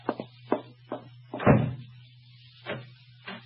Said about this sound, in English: excuse me for banging the door.